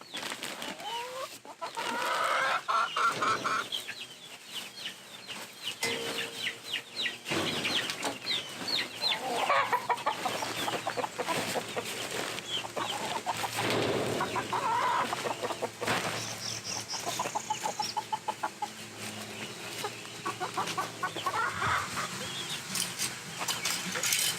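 Hens cluck and squawk in a coop while bedding is spread across the floor, wings flapping in bursts and birds calling close by, with rustling and handling noises throughout.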